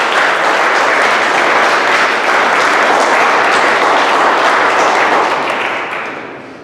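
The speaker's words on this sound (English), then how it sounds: "Please give a round of applause for this year's members of the President's List." A large audience at a seventh grade promotion ceremony breaks into loud, dense applause for honour-list students, holding steady for several seconds before tapering off near the end.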